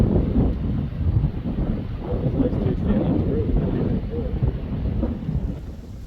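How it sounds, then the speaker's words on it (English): Strong outdoor wind buffeting a microphone in a valley, a continuous loud low rumble with gusty fluctuations throughout. "Hopefully you can hear me in the wind."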